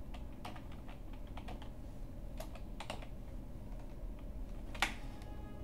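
Someone types on a computer keyboard while entering Ruby code, with scattered soft key clicks and one sharper tap near the end over a steady low background hum.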